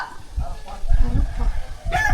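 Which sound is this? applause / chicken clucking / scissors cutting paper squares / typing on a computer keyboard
chicken clucking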